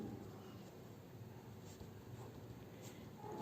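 Pen or pencil scratching steadily on paper while a maths solution is written out, a quiet, continuous close-up scribble with small irregular strokes and no talk.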